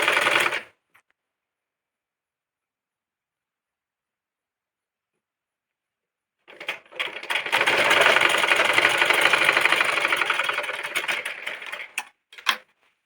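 A sewing machine stitches a petticoat, running steadily for several seconds after a long pause, with a brief stop-start burst at the end and no talking.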